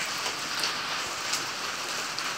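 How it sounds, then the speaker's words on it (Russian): Rain falls steadily on garden flowerbeds, a soft continuous hiss with faint scattered drop taps, moderately quiet and with no voices. "Дождь, хорошо, да, вот эти все мои клумбочки."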